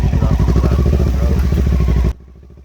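Kawasaki Versys adventure motorcycles ride along a rocky path to an abandoned paper mill, their engines a loud, steady rumbling drone with rhythmic pulsing that cuts off abruptly near the end, leaving quiet background.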